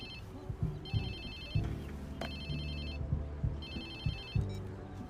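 A phone rings in the video game Watch Dogs 2, its repeating electronic ringtone sounding in three clear bursts over a low game music bed with thumping beats.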